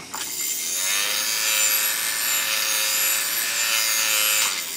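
A leather or woodworking tool blade is rubbed steadily against a sharpening tool, giving a continuous close, bright scraping hiss with no talk.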